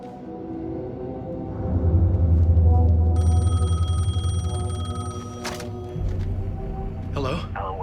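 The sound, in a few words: payphone ringing, from the video game Alan Wake 2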